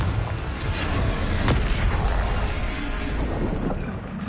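Confringo spell explosions in Hogwarts Legacy, loud booming blasts with one sharp burst standing out among a rumbling, crackling barrage of combat effects.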